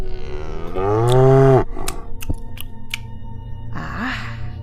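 A cow moos once, a long, loud, low call with a falling end, followed by a few rustling and clattering noises and a shorter, quieter second moo.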